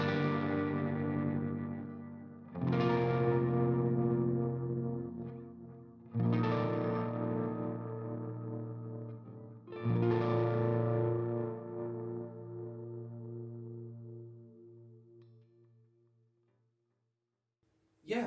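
Clean P90 electric guitar through an MXR Carbon Copy analog delay rings out four strummed chords, each sustaining with soft echoing repeats that taper slowly into silence at the end.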